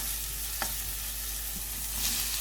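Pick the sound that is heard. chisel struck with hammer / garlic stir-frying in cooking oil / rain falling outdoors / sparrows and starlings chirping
garlic stir-frying in cooking oil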